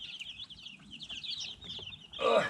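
Hens on a chicken ranch, among them Rhode Island Reds and Dominiques, keep up a soft run of clucks and chirps in the background. A louder burst of noise comes near the end.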